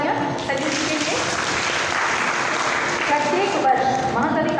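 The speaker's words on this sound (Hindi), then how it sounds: "वह जोरदार तालियाँ संजू सिंह के लिए" Loud, sustained applause from an audience at the Mahakavi Kashinath Pandey Shikhar Samman 2026 award ceremony, honouring an award recipient; dense clapping fills the whole stretch with voices mixed in.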